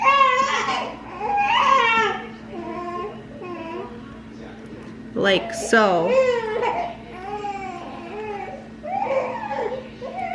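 A baby whimpers and cries in short, wavering bursts, with a sharper wail midway, while an adult talks nearby.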